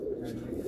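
A pigeon gives a soft, low coo, close and steady for under a second.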